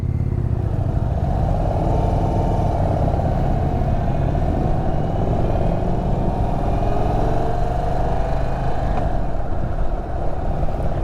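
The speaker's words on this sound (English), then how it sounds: "There's a bit more rumble from the engine, a bit more vibrations." An Indian Sport Chief RT motorcycle engine rumbles steadily at close range, a low, continuous throb with slight vibration and gentle swells as the rider eases the throttle.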